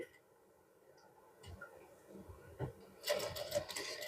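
A sewing machine stitches a gents kurta placket, quiet at first, then a louder rapid mechanical whirring run in short bursts, close by.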